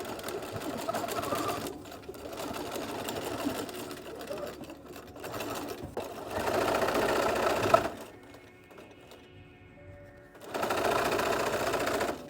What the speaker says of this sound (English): we are going to sew a 5/8 of an inch stitch all the way around the armhole